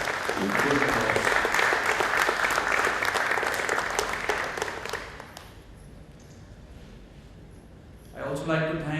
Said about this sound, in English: I think you deserve good applause.